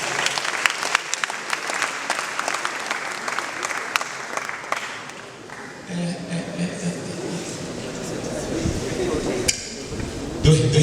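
An audience at a church seminar for singers in Burundi claps in dense, continuous applause, loud at first and then thinning out, with voices and cheers mixed in toward the end.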